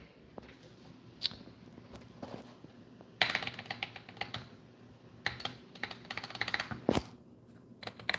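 A computer keyboard is typed on in short irregular bursts of clicky keystrokes, close and fairly quiet, with pauses between runs.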